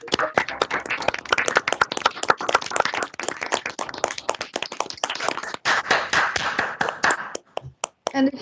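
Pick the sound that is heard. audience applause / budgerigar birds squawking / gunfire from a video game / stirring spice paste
audience applause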